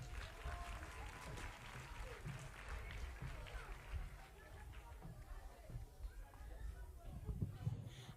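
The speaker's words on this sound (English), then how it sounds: "Come on, let's give them a bigger round of applause." Audience clapping at a Year 6 school production, a soft, fairly distant round of applause mixed with crowd murmur, shuffling and movement throughout.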